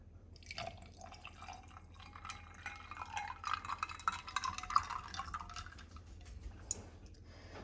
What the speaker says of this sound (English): Use my cold brew container to pour it into.